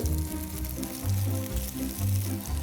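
A tortilla begins cooking in a hot pan, giving a close, continuous sizzle and crackle with low bubbling pulses that rise and fall throughout.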